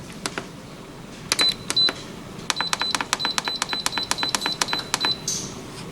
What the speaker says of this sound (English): so our pressure cooker finished cooking